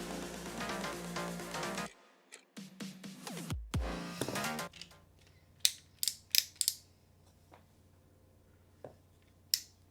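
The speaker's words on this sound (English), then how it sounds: "Here is almost the exact same type of ratchet that was in that forearm." A toy ratchet joint from a transforming Optimus Prime figure clicks through its notches in quick runs up close, then gives a few isolated sharp clicks separated by quiet.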